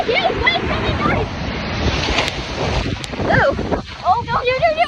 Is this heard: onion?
no